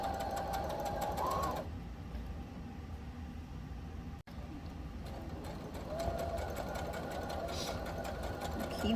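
A sewing machine stitches fabric for a holiday bookmark, a continuous close mechanical whir that runs the whole length with one brief dropout partway through.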